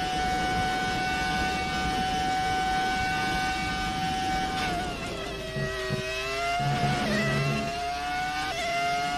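A Ferrari F2004 Formula 1 car driven by Charles Leclerc screams at high revs, a loud, sustained engine whine with sharp pitch drops and climbs through gearshifts and downshifts, heard alone without talk.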